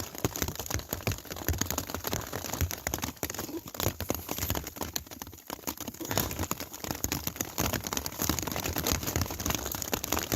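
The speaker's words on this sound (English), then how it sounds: "Now it's become a hailstorm." Hailstorm on the edge of Mount Taylor, with stones pelting a blue tarp shelter in a dense, crackling patter that is continuous and close, like crinkling plastic struck over and over.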